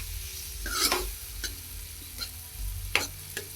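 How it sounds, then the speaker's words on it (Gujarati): Garlicky eggplant bharta stirred in a hot pan, a few separate scraping stirs over a low steady sizzle, close and fairly quiet. "હવે તેને બરાબર મિક્સ કરી લઈશું"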